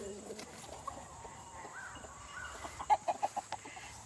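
Hens and three roosters out together on a farm give a run of short, fairly loud clucks near the end, following softer scattered bird sounds over a steady outdoor background.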